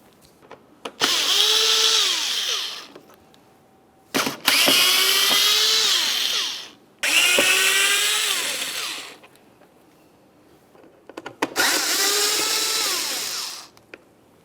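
A power driver backs Phillips head screws out of the front grille of a 2010–2013 Ford Transit Connect in four separate whining bursts of a few seconds each, loud and close with short pauses between.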